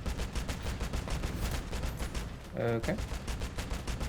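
Steady, rapid gunfire rattles in the Crossout vehicle combat game, loud and continuous, briefly joined by a short spoken word.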